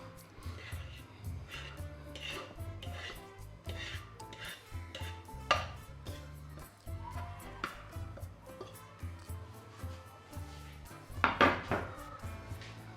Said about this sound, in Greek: Και ανακατεύουμε.